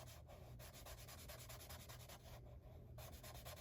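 An alcohol marker's chisel nib rubs in small circles on paper, a very faint, steady scratchy scribbling with rapid rhythmic strokes and a brief pause, close up and without speech.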